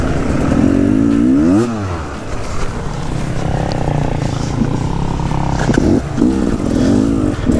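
Enduro dirt bike engine revving hard on a muddy, rain-slicked trail, the pitch rising and falling in loud close bursts as the rear wheel spins and slips, with a rider talking over it.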